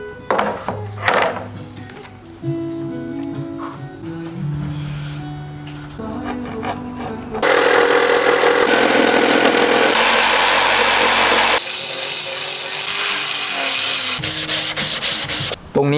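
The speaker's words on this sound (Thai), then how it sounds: "ทำการตัดแบบตัวกีตาร์นะครับ เอาที่เราต้องการเลยครับ" A loud power tool cuts a guitar body shape out of wood for a small travel guitar. After some scattered knocks and shifting sounds, a sustained harsh rasping grind dominates the second half, ending in short bursts.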